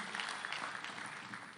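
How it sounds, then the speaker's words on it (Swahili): Crowd applause for former governors at a funeral gathering in Kenya, a steady dense wash of clapping from many hands throughout, moderately loud and continuous. "Tuko pia na Governor William Kabogo, tupigie makofi."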